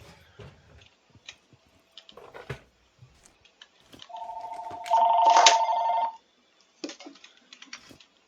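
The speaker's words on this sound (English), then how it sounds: "it was just my phone ringing in the background" A phone rings in the background of a room while someone plays a survival video game, a short ringer burst set among faint clicks and taps.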